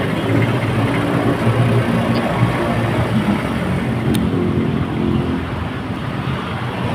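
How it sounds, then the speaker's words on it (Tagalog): A motorcycle engine idles steadily and loudly close by, a continuous low rumble with no clear revs, running alone without talk. "Motor na yun eh."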